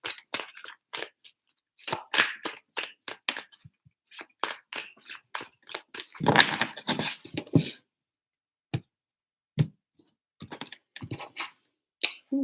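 Tarot cards being shuffled by hand: rapid bursts of crisp papery riffling and tapping, close and fairly quiet, with short pauses between rounds and a few isolated taps near the end.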